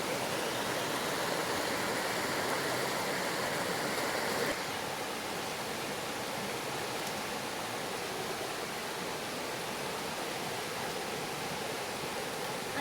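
Kottappuzha river water flowing steadily nearby in Kerala, a continuous, even rushing hiss that is slightly louder for the first few seconds and then stays constant with no talk.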